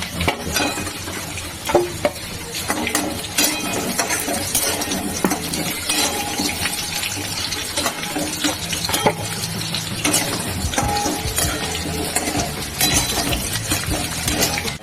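Capsicum and potatoes fry in a pan for a chicken curry, giving a steady close sizzle broken by scraping stirs and occasional clinks of the spatula against the metal.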